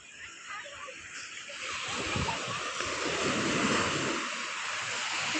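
Sea waves wash up onto a beach on a morning shore, a broad rushing surge that swells and stays steady, moderately distant, with some wind rumble against the microphone.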